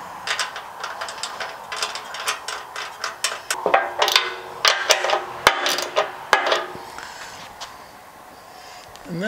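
Bolts on a Hawk DLX motorcycle fuel tank gasket being tightened with a ratchet, giving a quick run of sharp close clicks and metallic taps that thin out toward the end.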